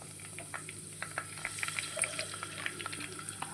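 Green chillies hit hot oil with spices in a clay pot for a chicken curry, giving a soft, crackling sizzle with scattered pops and spits throughout, faint and close, with no talking.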